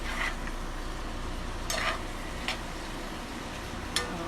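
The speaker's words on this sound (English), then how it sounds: "that's just a tablespoon of our minced garlic. Go ahead and move that around." Minced garlic sizzling in a pan while being stirred with a utensil, a steady close frying hiss broken by a few sharp scraping clicks, no voices.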